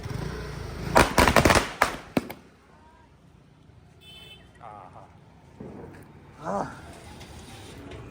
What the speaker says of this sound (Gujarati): હવે વન શોટ સોલ્યુશન બધા હવે ફોડવાનું કરતા હોય છે